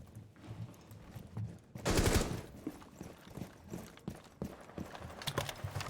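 Bursts of rapid automatic gunfire in a competitive video game shooter match, a loud dense volley followed by scattered quieter shots and clicks.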